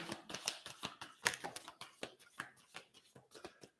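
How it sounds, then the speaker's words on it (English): A deck of cards being shuffled by hand at close range, giving a quiet run of quick riffling flicks and soft slaps in an uneven rhythm with no voices. "I'm just shuffling the cards to put those back in."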